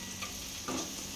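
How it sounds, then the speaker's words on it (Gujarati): Roasted semolina tipped into a pan and stirred while upma is cooked for a lunch box, giving a short soft scrape and hiss with a brief louder burst partway through and no talk. "સૂજી શેકીને રાખ્યો હતો એ હું એડ કરી દઈશ આના અંદર."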